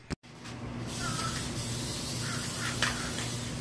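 A continuous aerosol spray paint hisses steadily onto a wooden RC car ramp for several seconds after a short click, close by, with faint background noise.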